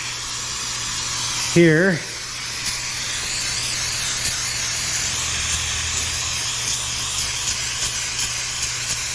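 A steady hiss of cleaner sprayed onto oily parts from a 2004 Yukon with oil leaks, continuous and close for most of the stretch, with a brief voice near the start.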